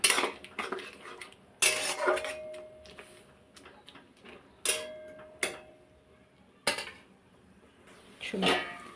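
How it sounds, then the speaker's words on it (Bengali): A metal bowl set over a pot of finely chopped greens, a few sharp separate clanks and ringing metallic knocks with quiet gaps between them, close by. "এবার একটা গামলা দিয়ে ঢেকে দিচ্ছি।"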